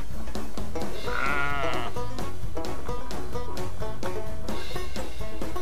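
Sheep bleating in The Sheep Game, a farming video game, heard as a single drawn-out wavering bleat over a busy, steady music track.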